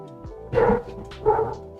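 Two close, loud woofs from a dog, spaced about three-quarters of a second apart, over a faint steady background hum.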